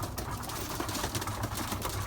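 Roughly fifteen pigeons in a loft coo softly and faintly, a low murmuring of birds with soft rustling around them.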